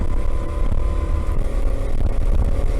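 A go-kart races around the Varna Karting track, heading over a crest into the last uphill corner. Its engine buzzes loud and close with constant wind rush, and nobody speaks.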